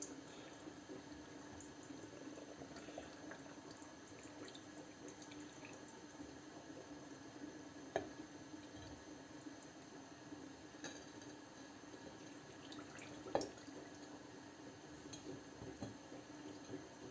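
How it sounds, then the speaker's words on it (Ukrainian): Cold water runs in a steady faint stream, with occasional soft glassy clinks as it is poured into jars of tomato salad. "І це все просто заливаємо студену воду."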